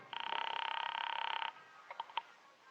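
Telephone sound effect in an old-time radio detective drama, a sustained electronic trill for about a second and a half followed by a few short faint clicks, heard alone.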